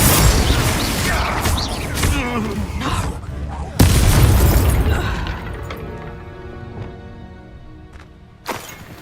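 A Confringo blasting spell goes off in the Hogwarts Legacy video game. Two loud explosive blasts crack and boom, each followed by crashing, rattling debris that dies away, and a smaller burst comes near the end.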